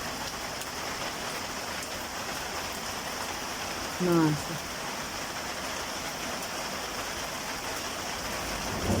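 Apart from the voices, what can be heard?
rain falling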